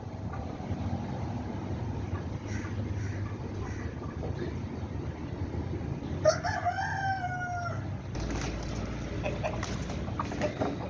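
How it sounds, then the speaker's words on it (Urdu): Aseel hens cluck and scuffle in a backyard run while a rooster crows partway through, over a steady background hum and some outdoor noise. "مطلب مرغیاں ایسے لڑ رہی ہیں جیسے یہ اصیل ہوں"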